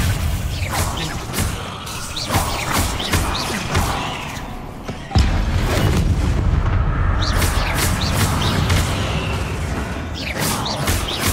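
Bombarda spell explosions in the video game Hogwarts Legacy: a loud, dense run of blasts and sharp impacts, with a heavier burst midway, keeps going for the whole stretch with no pause.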